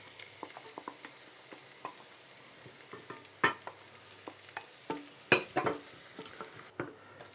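Corn tipped into a pan of softened, translucent onions for a vegetarian corn chowder, a quiet sizzle broken by irregular stirring taps and scrapes, with a couple of louder clatters near the middle and end.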